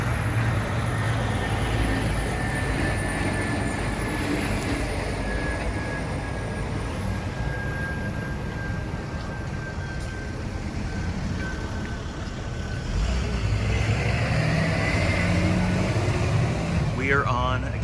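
A truck drives past near Husky Stadium on the west side of Lake Washington, a steady broad rumble close by that swells slightly toward the end, with a faint high whine throughout.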